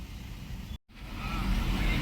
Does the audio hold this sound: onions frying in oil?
no